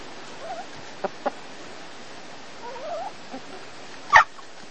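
Chickens cluck softly now and then against quiet background noise, with one louder squawk near the end, a few birds fairly close.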